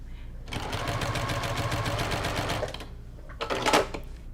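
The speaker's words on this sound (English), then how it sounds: "So before I start stitching over here, I'm going to test my stitch length." A sewing machine test-stitches quilt layers with a top stitch needle at a 2.0 stitch length, a steady close mechanical whir and rapid needle clatter running for about two seconds, then a short burst of handling noise.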